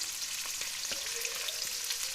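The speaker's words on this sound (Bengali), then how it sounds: "আলুটাকে বেশ ভালো করে ভেজে নিতে হবে।" Potato pieces fry in hot oil with turmeric powder for a chicken curry, giving a dense, continuous sizzle with a few soft clicks of stirring over it.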